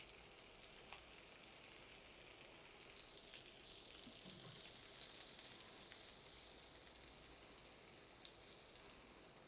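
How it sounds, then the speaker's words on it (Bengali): Two cut onions fry in the oil left from frying an egg, a continuous close hiss and crackle of sizzling that holds fairly steady with no talk. "পেঁয়াজটা আমি কয়েক সেকেন্ড একটু ভেজে নিলাম"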